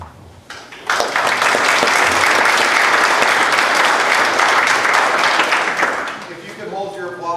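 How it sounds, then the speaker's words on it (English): Audience applause at a court judge forum swells suddenly into loud, dense clapping from a crowd, holds steady for several seconds, then fades as a voice begins speaking. "If you could hold your applause until the end, it'll be better."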